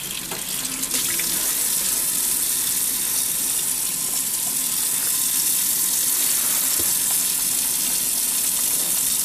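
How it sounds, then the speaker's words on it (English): Hands are washed under a running sink tap before gloving up for a blood draw, a loud, steady rush of water streaming continuously and close by with no talking over it. "I'm going to go wash my hands and glove up."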